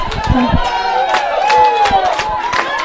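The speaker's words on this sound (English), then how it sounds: "The crowd on their feet." A crowd cheers and shouts at a women's rugby sevens match at an outdoor oval, a busy roar of voices with scattered yells, mixed with close commentary.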